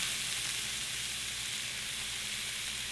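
Alligator meat fries and gets stirred in a pan, making a continuous loud hiss of sizzling grease that stays steady and close throughout.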